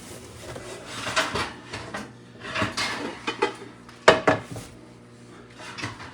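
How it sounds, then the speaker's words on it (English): Skillets are pulled out and handled in a home kitchen, with scattered metallic clanks, scrapes and knocks of cookware, one sharp clang standing out, close by with no talking. "Let me get these other skillets out."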